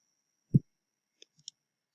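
A single soft, close computer mouse click on an OK button, followed by a couple of tiny, faint ticks in otherwise near silence.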